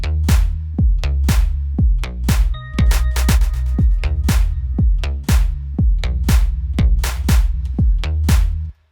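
A repeating electronic clap pattern plays through 16th note delay, sharp rhythmic hits with echoing repeats over a heavy low bass pulse, loud and steady across two measures.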